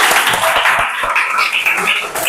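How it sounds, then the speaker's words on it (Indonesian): Classroom applause from students, a steady wash of many hands clapping together at close range, continuous and fairly loud throughout. "Oke, tepuk tangan dulu."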